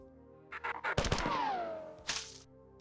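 Weapon fire in the classic shooter Marathon: a few quick shots, then a louder blast with a descending whine trailing off, followed by another short burst, with no talk.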